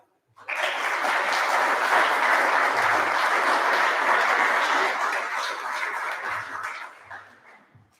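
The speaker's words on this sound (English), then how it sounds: "Big round of applause for all of our student citizenship nominees" Audience applause for student citizenship nominees at an Australia Day event, a dense burst of clapping that starts abruptly, holds steady and loud for several seconds, then tapers off toward the end.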